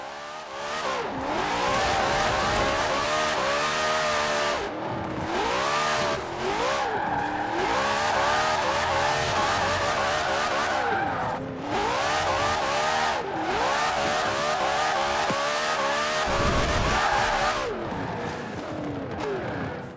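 A Dodge Viper drifts through a drift zone in Forza Horizon 4, its engine revving and wailing in long rising and falling sweeps with brief lifts between, loud and close with tire noise and no talk.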